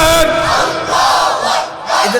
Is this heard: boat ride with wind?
no